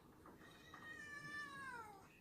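A nervous cat at a veterinary handling session gives one long, wavering meow that rises and then slides downward, faint against a steady background hiss.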